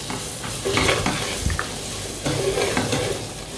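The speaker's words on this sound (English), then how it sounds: "After adding all that, I'm going to stir on it." Pasta sauce seasoned with salt and crushed Maggi sizzles steadily in the pan while a spoon stirs through it, with scraping strokes and light clinks over the frying hiss.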